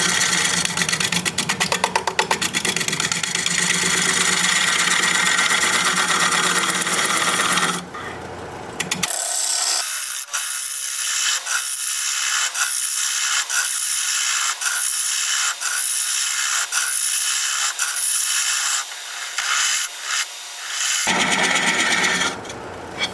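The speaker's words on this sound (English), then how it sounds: "I'm going to shear scrape along the top edge here a little bit." A scraping tool shears across spinning plum wood on a lathe, starting with a loud, dense rasping hiss, then breaking into a series of shorter scraping strokes with brief pauses before a loud sustained pass returns.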